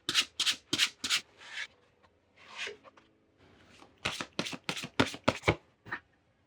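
A deck of oracle cards is shuffled for a tarot reading in several close, crisp riffling bursts separated by brief quiet gaps.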